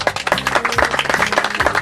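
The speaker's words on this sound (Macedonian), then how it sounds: "Еден аплауз." Spectators at a Macedonian Karaman shepherd dog show applaud, a burst of clapping from a small crowd, fairly close and loud, with tonal sounds mixed underneath.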